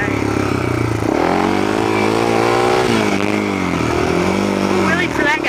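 A motorcycle engine revs hard during a wheelie on a muddy ride, its pitch swelling and dipping in long sustained waves, loud and close throughout.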